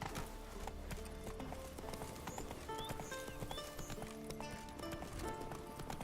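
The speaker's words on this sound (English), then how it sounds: "Gotta be careful doing jumps like that. You can kill Roach" Horse hooves clip-clop at a gallop in The Witcher 3 video game, with a brief whinny and game sound effects, steady and moderately close with no talking.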